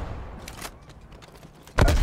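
Gunfire from the video game Black Ops Cold War: a couple of sharp shots with a brief burst at the end, over quiet game background and no talk.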